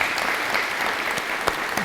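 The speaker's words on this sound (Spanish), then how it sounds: "Un aplauso para María Claudia Varías." An audience applauds steadily at a music and social transformation event of the Batuta Foundation in Colombia, a dense wash of clapping at moderate level with a few sharper claps standing out.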